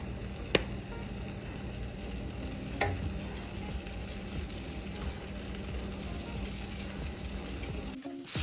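Fries frying in a pan over medium heat give a steady, even sizzle throughout, with a few faint clicks and scrapes, and a louder clatter at the very end.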